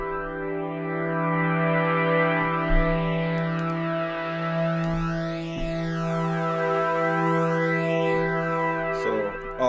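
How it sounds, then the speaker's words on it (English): A voice-triggered synth tone from a Dubler 2 beatbox setup runs through a phaser, giving a sustained, buzzy drone with slow sweeping whooshes rising and falling across nearly ten seconds, no speech. "Maybe I'll use a phaser instead because it's already pretty delayed"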